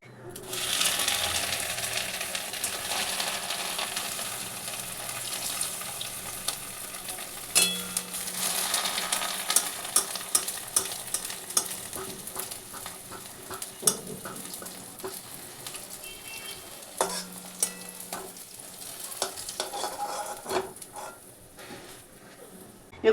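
Cheese bread rolls fry in oil with a steady, fairly soft sizzle, broken now and then by light clicks and clinks of a utensil against the pan.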